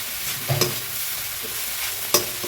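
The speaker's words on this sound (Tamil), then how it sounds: "2 நிமிஷம் நல்லா வதக்கிக்கோங்க." Pepper tomato greens being stir-fried in a pan for a poriyal, with a soft steady sizzle and a few sharp spatula scrapes and taps against the pan; no talking.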